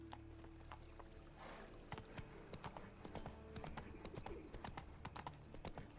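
Roach, the horse in The Witcher 3, gallops with a steady rhythmic clip-clop of hooves, fairly close, over a constant game ambience with no speech.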